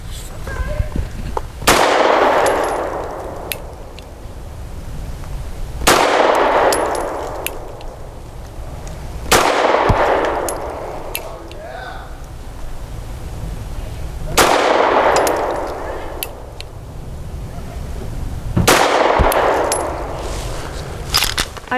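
An FN 509 Midsize pistol fires 115 grain rounds at a target from seven yards, five loud sharp shots spaced a few seconds apart, each ringing out with a decaying echo.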